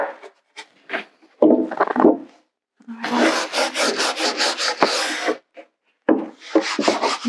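Old finish is scrubbed off wooden furniture in bursts of rough, rasping strokes, some short and some long and rhythmic, separated by brief silent pauses, all heard close up.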